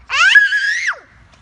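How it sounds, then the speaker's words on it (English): A child lets out a single loud, shrill scream, close by and high-pitched, held for under a second before breaking off. "Somebody said, no, don't scream. It's too loud."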